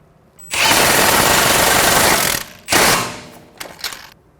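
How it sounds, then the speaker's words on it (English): An 18mm socket driven onto the front sway bar link nut of a 2014-2019 Toyota Highlander: a loud, close whirring burst lasting about two seconds, a shorter second burst, then a few faint stuttering pulses. "Using an 18mm wrench, hold the back while using an 18mm socket to tighten the front."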